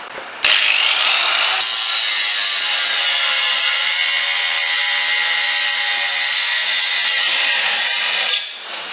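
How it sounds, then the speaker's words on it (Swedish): An angle grinder cuts or grinds on a rusty Volvo 360, a loud, steady high-pitched whine running for about eight seconds before winding down, with no talk. "vinkelslip"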